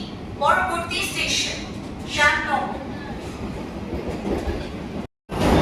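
A Sealdah-Kalyani AC local train runs out of Barrackpore on its first day, giving a steady close rumble with a brief dropout near the end while someone talks over it in Bengali.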